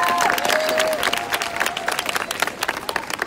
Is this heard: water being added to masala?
no